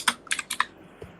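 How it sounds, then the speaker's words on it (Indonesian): Computer keyboard typing in a short burst: four or five quick, crisp keystrokes close by, then a single fainter tap after a brief pause, with no voices. "ada yang ngetik"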